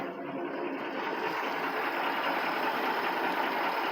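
Old engine, nicknamed Old Blue, idling steadily on its first start in years while running on three- or four-year-old gas; a continuous, loud, even drone with a slight rough patter and no voices.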